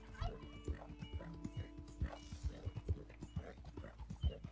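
A large Andalusian horse in Red Dead Redemption 2 clip-clops along at a steady walk, the hoofbeats rhythmic and moderately close over quiet game ambience.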